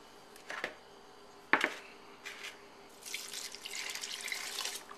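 A few soft knocks and clinks are followed by soy sauce and vinegar pouring steadily into a bowl, quiet and close, with no talking.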